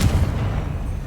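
A Confringo fire spell in Hogwarts Legacy bursts with a single deep, booming explosion that rumbles out over a second.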